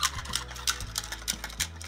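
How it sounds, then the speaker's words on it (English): A battery-powered Chubby Puppy toy dog whirs and clicks mechanically as its legs move, making a rapid, regular ticking pattern close up. "it has an on-off switch at the bottom. So I'm going to turn it on. Oh, and the legs just start moving."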